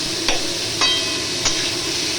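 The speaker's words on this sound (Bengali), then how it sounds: "এটা পেঁয়াজটা মোটামুটি ফ্রাই হবে," Onions fry for shahi paneer with a steady sizzling hiss, while a spoon scrapes the pan about three times at a slow, even pace. The cooking is close and fairly loud, and nobody speaks.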